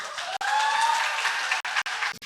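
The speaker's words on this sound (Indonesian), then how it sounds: "Aku nggak mau mulai kalau belum ada tepuk tangan yang keras." Loud, sustained audience applause fills a campus talk show hall, a dense wash of clapping with a few brief breaks near the end and no talking over it.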